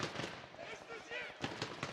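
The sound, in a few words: gunfire spray in PUBG Mobile video game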